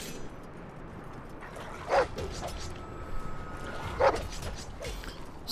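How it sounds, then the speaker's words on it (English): A dog barks in a Game of Thrones RPG video game, with two short, mid-loud yelps or barks spaced about two seconds apart over a steady background hum. "Surprised the dog's allowed to fight in this."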